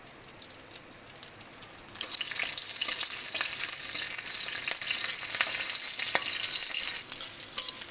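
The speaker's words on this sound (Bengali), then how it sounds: "আমি ঝাল আর পেস্টটা ভেজে নেব" Chili and spice paste hit hot oil for potato chhana, a quiet start giving way to a loud, close, continuous sizzle with scattered crackles and pops, a sharp tap near the end.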